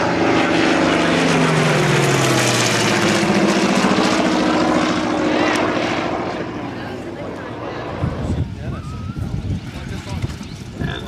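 A Corsair warbird, a propeller-driven fighter, flying at a beach airshow: a loud, droning engine roar that sweeps past and fades, with crowd noise and gusty wind taking over near the end.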